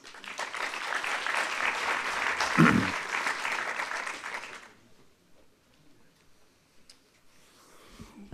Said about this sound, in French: Je vous demande d'applaudir bien fort Georges Ruidas.